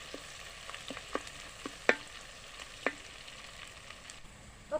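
Mango dal mixture sizzles steadily in a pan while a spoon scrapes and stirs it, giving irregular sharp clicks over a soft frying hiss, close and fairly quiet.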